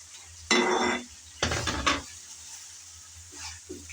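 Fried shrimp tipped into a pan of softened onions for shrimp do-pyaza, then stirred: two loud bursts of scraping and sizzling, one near 0.5 s and a longer one near 1.5 s, over a steady low hum, then a few faint clinks.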